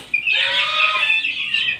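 Fighting-breed chickens cluck and chatter close by, a brief burst of bright squawking calls.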